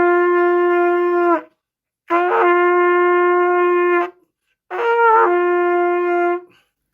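Three sustained brass notes from a beginner player, each held one to two seconds with a rough, buzzy, unfocused tone and short silences between them.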